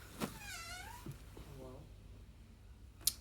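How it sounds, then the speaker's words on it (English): A house cat meows nearby in two wavering, drawn-out calls, followed by a soft thump and a sharp click in a quiet room. "I had to go deal with my cat as well."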